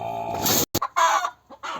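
A loud, nearby goose calls at its nest after laying an egg, in a few harsh, honking bursts separated by brief gaps.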